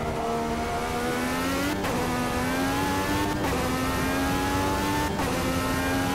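An IndyCar engine screams at high revs in the racing video game Automobilista 2, loud and close, climbing through the gears with three quick upshift breaks in the whine.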